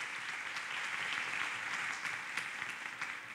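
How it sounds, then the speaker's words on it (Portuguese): Audience applause at a Brazilian nursing congress, steady dense clapping from a crowd throughout, with no talk over it. "Uma salva de palmas"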